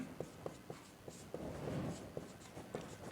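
Numbers being written on a board with chalk or pen during a maths lesson on divisibility rules, heard as short, close taps and strokes in an irregular rhythm, without speech.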